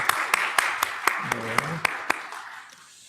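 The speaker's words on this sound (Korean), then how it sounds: "네, 박수로 환영하겠습니다" A church congregation at a Korean church's Sunday service claps to welcome visiting missionaries, with eight or so loud, evenly spaced claps over a low murmur of voices, fading out at the end.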